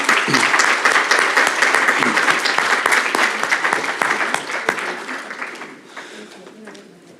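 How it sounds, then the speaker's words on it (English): A conference audience gives a warm round of applause after a morning talk, dense steady clapping that fades out toward the end while a voice speaks over it. "please join me in a round of applause and thank Ryan once again"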